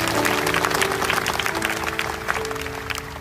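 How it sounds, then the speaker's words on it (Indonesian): A church congregation claps together in praise for Jesus, a dense, steady patter of applause with a faint sustained tone beneath it and little talk. "Yang percaya kasih tepuk tangan untuk Tuhan Yesus."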